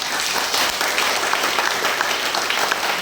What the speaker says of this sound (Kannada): ಇಡೀ ಹಾಲಲ್ಲಿ ಎಲ್ಲರೂ ಜೋರ ಚಪ್ಪಾಳೆ ಹೊಡೆದ